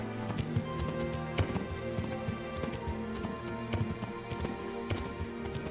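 A horse's hooves clip-clop in a steady galloping rhythm in the video game Kingdom Come: Deliverance, heard over game music with a few sharper hoofbeats standing out.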